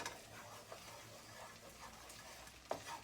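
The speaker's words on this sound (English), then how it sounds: "As you see, my butter is melting right and good." Butter melts and sizzles in a pan on the stove while sweet potatoes are being prepared, a quiet, steady frying hiss with faint crackles and a light clink near the end.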